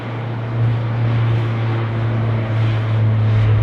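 A DHL cargo aircraft banks near Sydney Airport, its steady low engine drone heard from a distance as an unbroken roar with no speech.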